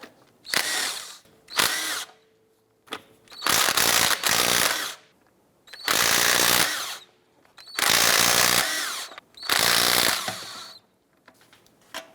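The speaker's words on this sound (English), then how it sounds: "Using a 22mm socket, let's go ahead and remove these lug nuts." A power tool with a 22mm socket spins off lug nuts on a 2010-2016 Cadillac SRX wheel, sounding in about seven loud bursts of whirring and rattling separated by short silences.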